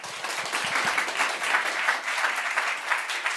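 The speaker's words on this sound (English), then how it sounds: "if we can give him a round of applause for a great talk" An audience applauds after a talk at an academic summer-school conference on the Kyoto School, a steady, moderately loud patter of many hands in a room that continues without pause through the clip.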